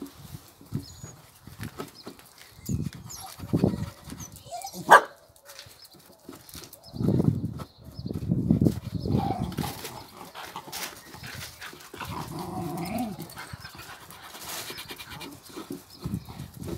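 A dog barks in irregular bursts, fairly close, with pauses between the outbursts and some muffled rustling in the background.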